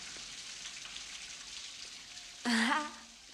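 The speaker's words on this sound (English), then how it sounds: "I love the rain." Soft, steady patter of rain, a faint hiss throughout, with a brief louder vocal sound breaking in near the end.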